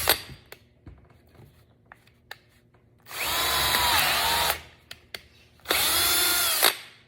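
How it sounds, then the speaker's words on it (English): A power drill drives a screw into wood, one short whine followed by two long steady runs as the screw spins without seating and strips the hole, loud and close with no talking. "instead of it starting to click, it just completely just keeps drilling, and now that hole is stripped out."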